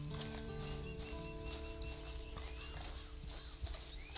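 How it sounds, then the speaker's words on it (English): Horse hooves clip-clop at a steady walking rhythm in the video game Red Dead Online, fairly quiet, with a faint voice and background game sounds. "And you better get on this horse."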